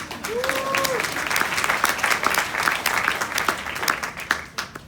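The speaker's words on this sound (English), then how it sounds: "give yourselves a round of applause" Enthusiastic audience applause, a dense wash of many hands clapping, with a brief whoop near the start and the clapping thinning out toward the end.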